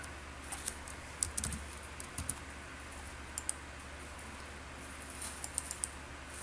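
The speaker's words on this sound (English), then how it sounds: "I can type my notes inside my text box." Typing on a computer keyboard while entering notes in a text box, with scattered quiet keystroke clicks arriving in small bursts and pauses over a low steady room hum.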